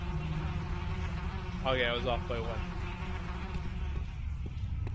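Bees buzz in the pixel-art adventure game Tales of the Neon Sea, a droning hum under a steady background ambience that swells into a clear, close buzz for about a second midway. Someone speaks briefly over it.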